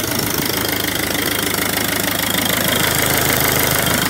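A small Peugeot car engine idling close to the microphone, with a steady, even, slightly knocking rumble that holds loud and unchanged throughout.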